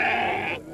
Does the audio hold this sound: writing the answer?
no